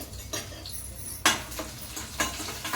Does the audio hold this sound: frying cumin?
yes